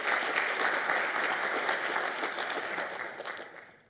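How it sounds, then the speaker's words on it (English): Audience clapping for a graduating youth council, a continuous mass of applause that holds steady and then thins out toward the end. "Give yourself again once more a round of applause."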